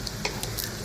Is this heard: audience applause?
no